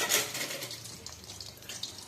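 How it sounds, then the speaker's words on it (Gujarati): Vegetable aloo matar samosas sizzle and bubble in hot oil, a steady, moderately loud broadband hiss with crackling spikes that stays continuous throughout. "હવે એને આપણે તળાવવા દઈશું."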